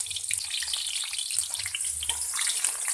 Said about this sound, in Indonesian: Setelah minyak panas, kita goreng bawang putihnya, bawang merah, lengkuas, jahe.